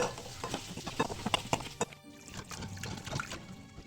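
Water splashing and sloshing as things are rubbed and swirled in a bowl, with small clicks and knocks, close and fairly quiet.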